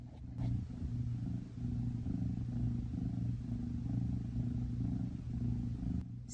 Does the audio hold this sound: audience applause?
no